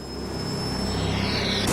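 Helicopters flying around a mountain base in the Mont Blanc area, a loud continuous engine and rotor drone close by that builds slightly over the moment, heard alone.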